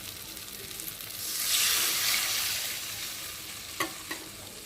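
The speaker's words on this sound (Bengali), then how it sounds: "আর এখন আমি পরিমাণ মতো জল দিয়ে দেবো।" Water poured into hot spice paste frying in oil for a silver carp fish curry sets off a loud, building hiss that swells and then eases, followed by two sharp clinks of a stirring utensil.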